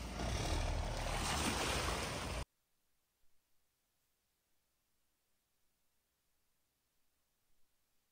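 A boat worth a crore being launched into the water sends up a loud, dense rushing splash for about two seconds, then cuts off abruptly to near silence with faint distant knocks.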